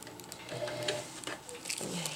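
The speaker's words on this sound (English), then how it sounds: "to do a stitch along the top here with a 1/2 inch seam allowance to sew the casing onto the fabric" A sewing machine stitches a drawstring casing onto stuff-sack fabric with a 1/2 inch seam allowance, giving a close, uneven mechanical whirring and clicking that comes in short bursts, with no talking.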